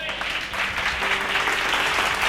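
A Bible study congregation claps together in a steady, dense round of applause that lasts the whole moment and grows slightly fuller toward the end.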